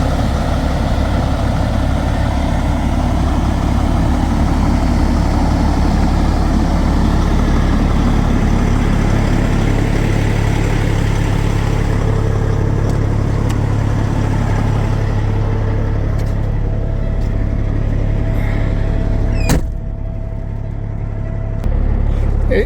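Fully customized Peterbilt semi truck from Dominguez Iron Work rumbles during a ride, a loud, heavy low engine drone with road noise that runs steadily, then eases and thins near the end.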